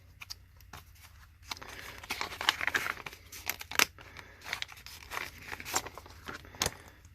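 A knife slits open a postcard mail package, giving a run of sharp tearing, crinkling paper noises in uneven bursts, fairly close and with no talk.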